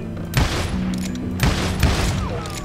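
Gunshots in Call of Juarez: Gunslinger, a few loud booming reports spaced over a couple of seconds with a low hum behind them and no talk.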